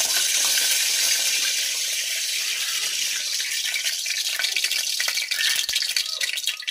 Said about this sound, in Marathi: कढीपत्ता छान तडतडून झालेला आहे